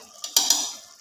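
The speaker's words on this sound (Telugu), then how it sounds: "ధనియాల పొడి వేసిన తర్వాత ఇలా ఒకసారి కలుపుకుందాము" A spoon scrapes through a pot of nethi beera (ridge gourd) curry just after coriander powder goes in, giving a few quick clinks and scrapes with a faint sizzle trailing off, close and fairly loud.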